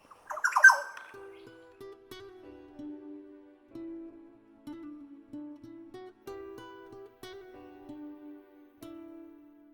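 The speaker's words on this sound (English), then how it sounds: "the yellow oriole obliged with a song" A yellow oriole sings on a hot Queensland savannah, its clear whistled phrases repeating every second or so at moderate distance, alone, after a brief harsh squawk at the start.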